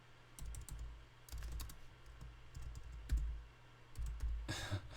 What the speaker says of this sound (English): Forgive my typing.